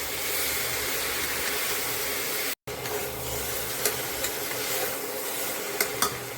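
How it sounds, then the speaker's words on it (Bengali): Boiled young jackfruit sizzles in hot oil in a pan while a spatula stirs it, a close, steady frying hiss with a short break and a few sharp scraping clicks near the end. "ধীরে ধীরে এইভাবে একটু ভেজে নিতে হবে, কিছু সময় ধরে ভাজা করে নেব এরকম করে"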